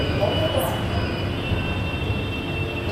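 A Delhi metro train at Gokulpuri station: a continuous low rumble of the train with faint high squeals and steady station hum, close by, with some background voices.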